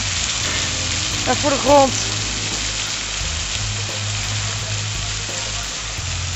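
Rain showers fall steadily, giving a constant, even wash of hiss outdoors, with someone speaking briefly over it.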